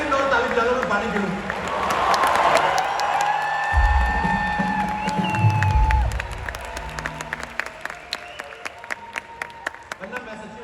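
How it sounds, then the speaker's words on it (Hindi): Audience at a Kapil Sharma comedy show in Seattle applauding and cheering loudly, a dense roar of clapping with whoops that swells mid-way, then thins to scattered claps. "10 सेकंड और ताली बजा लो"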